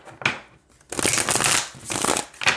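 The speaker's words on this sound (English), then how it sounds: "It shuffles just fine." A Nature Spirit tarot deck with a matte, unglossed finish being shuffled by hand, giving several close, crisp riffling bursts separated by brief pauses.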